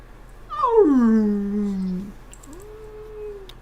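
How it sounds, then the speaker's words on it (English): A dog whimpers and whines up close: a long, wavering cry that slides downward, then after a short pause a second, softer and shorter whine, with no talking. "Are you making dog noises?"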